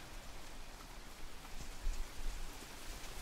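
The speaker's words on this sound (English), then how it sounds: "Would you look at that? It did rain." Steady, soft rain falls outdoors, a faint continuous patter with no other sounds over it.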